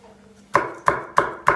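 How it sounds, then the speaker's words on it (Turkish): A knife chops capia peppers on a board for meatballs, striking in four crisp, evenly spaced chops close up. "Çok fazla ince doğramayın."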